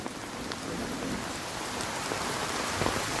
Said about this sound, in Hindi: अरे ये क्या, ये तो बारिश होने लग गई।